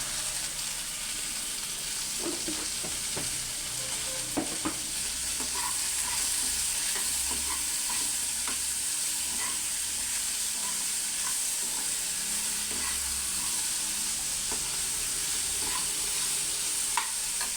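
Onions with a pinch of salt fry in a pan for tomato chutney. A steady, loud sizzle runs throughout, with occasional scrapes and taps as a spoon stirs.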